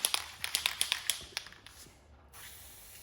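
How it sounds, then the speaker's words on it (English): A shaken can of spray paint sprays a short series of rapid hissing bursts into a spoon, close and distinct, followed by a softer continuous hiss that tapers off. "you can actually just shake up the spray paint and spray it into,"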